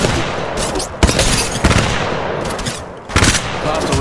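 Rapid gunfire from Apex Legends Mobile, a mobile battle royale game, with loud bursts of automatic shots separated by short pauses, repeating several times across the stretch.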